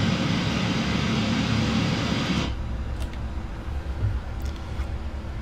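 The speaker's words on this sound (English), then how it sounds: "looks like our airplane is taxiing rather well over here" Boeing 777-300ER taxiing in the PMDG flight simulator, a steady broadband engine roar and rumble that drops to a quieter, lower idle hum halfway through, with faint clicks on top.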